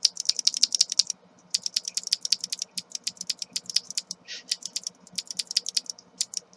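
Rapid, steady typing up close on a mechanical keyboard with Cherry MX Blue switches fitted with O-rings, crisp clacky keystrokes in a dense rhythm with one brief pause.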